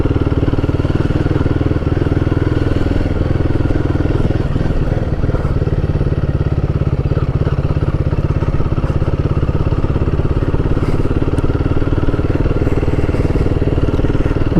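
A Royal Enfield Guerrilla 450 being ridden, its steady close-up engine drone and road rumble filling the whole stretch without a break, with heavy wind buffeting.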